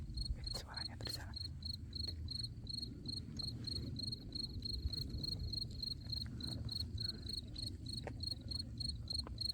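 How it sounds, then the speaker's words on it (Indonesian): Crickets chirping in the Arizona desert, a steady high pulsing trill that runs throughout over a low rumbling background, with a brief faint voice early on. "Jangkrik, walaupun ini di padang kayak gini, tapi ada jangkrik apa aku nggak tahu"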